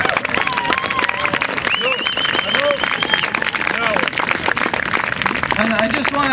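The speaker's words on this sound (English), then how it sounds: "Can we have a large round of applause for everything we just heard from these two" Applause and cheering from an outdoor crowd at a walk-for-Mother-Earth gathering with Mohawk Traditional Council speakers, sustained and loud, mixed with whoops and overlapping voices throughout.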